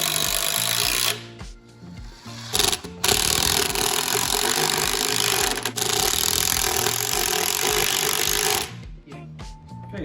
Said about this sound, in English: Now we're going to install the screws front and back.